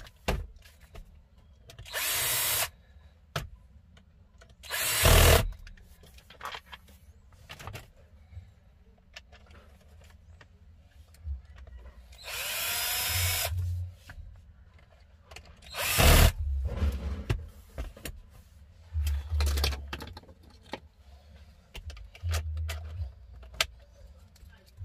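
A power drill drives a screw into the ashtray of a Citroën C4 Pallas/Hatch/VTR during an ashtray light swap, heard as several short, loud whirring bursts separated by pauses and quieter handling clatter.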